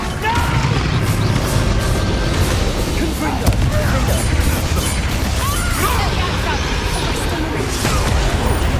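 A Confringo fire spell bursts in Hogwarts Legacy amid a dense clash of booms, crashes and crackling impacts, loud and continuous, with character voices layered into the fight.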